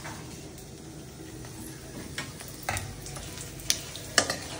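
Bay leaf, dry red chilli and black cumin tempering fry in oil in a pan, giving a faint, steady low sizzle broken by a few sharp pops and crackles toward the end.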